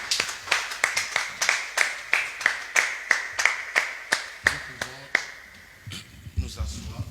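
A church congregation claps in unison to acclaim the Lord: crisp, steady rhythmic claps at a quick even pace, fairly close, fading at the end into murmuring voices.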